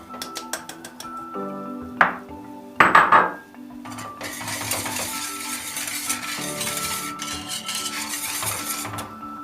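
A spoon or whisk scrapes and clinks against a pot as custard thickened with starch and flour is stirred, with sharp metallic knocks early on followed by steady, close scraping and swishing.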